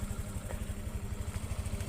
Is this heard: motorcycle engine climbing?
yes